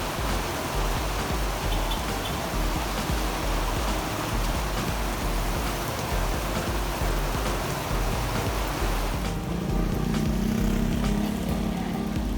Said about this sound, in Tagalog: Bumuhos ulit na malakas yung ulan.